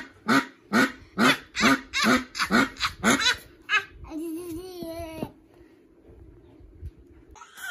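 A duck being handled by a child gives a rapid run of about ten loud, rhythmic quacks, then a longer, drawn-out squawk before going quiet.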